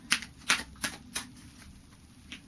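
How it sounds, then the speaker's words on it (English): Oracle of the Angels deck cards being shuffled, four quick crisp riffling bursts in a row, then one faint flick, quiet and close with no talking. "I just do a final shuffle of the Oracle of the Angels"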